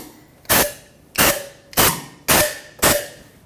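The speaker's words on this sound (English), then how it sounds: "Blow some compressed air to make sure that nothing actually is there." Compressed air blasts through the intake runners of a 1998-2011 Ford Ranger 4.0L V6 during fuel injector replacement: five loud, sharp, evenly spaced hissing bursts, each trailing off quickly, with no voices.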